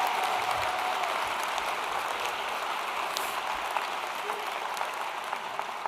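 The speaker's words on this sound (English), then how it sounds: "Does that deserve a round of applause?" Audience applause at a university graduation ceremony at Roehampton: dense, steady clapping from a large crowd, evenly loud and unbroken for about six seconds.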